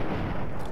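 Close, loud gunfire in Fallout 3 fills the moment as a dense burst of shots during a fight.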